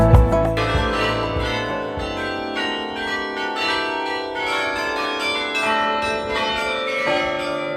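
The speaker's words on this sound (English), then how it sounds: "when you're like right next to the bells, they're really freaking loud." Church tower bells ring loudly at close range in Belgium, a dense peal of overlapping strikes with long ringing overtones that sustains without a break and no voices.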